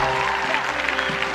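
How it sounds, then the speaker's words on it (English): Audience applause for a choir director at a live concert, a dense, steady wash of clapping filling the room alongside ongoing music with sustained tones beneath. "Can you guys give a huge round of applause to this woman right here,"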